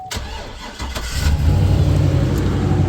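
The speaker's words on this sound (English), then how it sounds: "Y'all want to see the most exciting cold start ever on this 6-liter?" A 6-liter truck engine with factory exhaust cold starts, a short cranking whine and catch followed by a loud, rough, deep idle rumble settling in close by.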